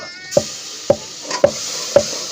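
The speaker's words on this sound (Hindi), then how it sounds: "अच्छी तरह के भुनाई तो हो रहे हैं" Masala roasting (bhunai) in a pan gives a steady close sizzle, broken by four evenly spaced scrapes of a stirring spoon, with no voices.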